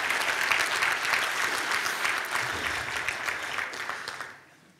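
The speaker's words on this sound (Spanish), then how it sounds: "Dar un aplauso a Jesús ahí en tu lugar." A church congregation applauds during a sermon, with steady, full clapping that holds for several seconds and then fades out quickly at the end.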